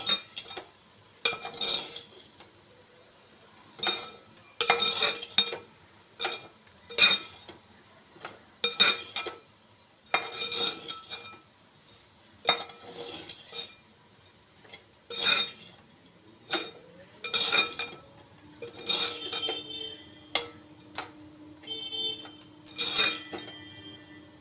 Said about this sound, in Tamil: அடுப்பை ஆஃப் பண்ணிவிட்டு சாதத்தை கலரிக்கோங்க.